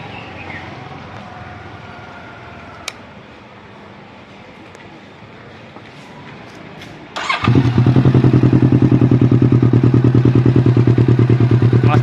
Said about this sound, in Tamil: இப்போ வண்டி ஸ்டார்ட் பண்ணுற பாருங்க.